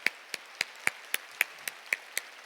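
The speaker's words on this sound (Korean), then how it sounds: "우리 하나님께 박수십시다." A church congregation claps in steady unison before a sermon: about ten crisp, evenly spaced claps over a low room hum.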